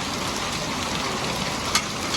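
Heavy rain with hail pours down in a dense, constant roar, close and loud, with no voices.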